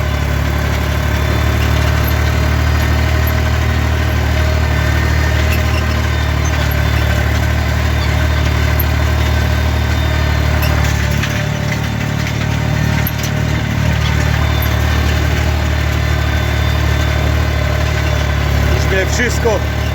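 Tractor engine running steadily while tilling a field after shallow ploughing, a continuous loud low drone with mechanical vibration from inside the cab, and a brief dip in the rumble around the middle.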